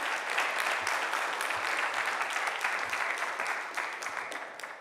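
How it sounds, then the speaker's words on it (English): Conference audience at a CUNY medical education event applauds steadily, a dense continuous clatter of many hands at moderate distance, holding for several seconds before tapering slightly at the end, with no voices over it. "Another round of applause for Dr. Carmen Renee Green, Dean of the CUNY School of Medicine."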